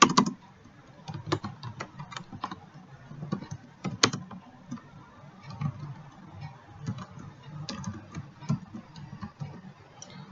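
Keystrokes on a computer keyboard while entering details into an Excel spreadsheet, quiet irregular clicks and taps arriving in uneven bursts with short pauses, close and alone with no talking.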